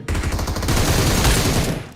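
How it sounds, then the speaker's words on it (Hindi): Rapid gunfire from above in the mobile battle royale game BGMI, a loud dense burst of repeated shots rattling in quick succession for about two seconds, with no talk over it. "अभी देखो गोली चलती है ऊपर से"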